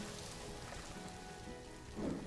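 Steady rain falls in the zoo-management game Planet Zoo, an even, close wash of patter that swells slightly near the end.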